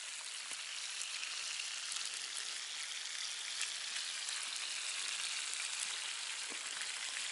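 Fish sizzles and spits in a hot frying pan after a fishing trip, a steady dense crackle with occasional louder pops running unbroken throughout, close and alone without talk.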